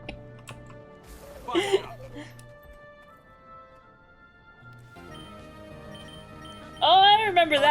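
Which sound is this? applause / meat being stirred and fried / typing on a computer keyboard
typing on a computer keyboard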